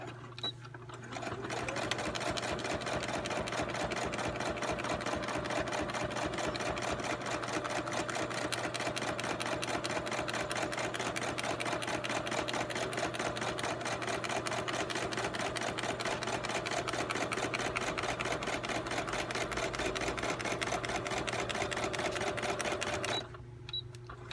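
A sewing machine stitches through a paper pocket notebook, giving a steady, fast mechanical whir and needle clatter that runs unbroken for about twenty seconds before stopping, with no talking.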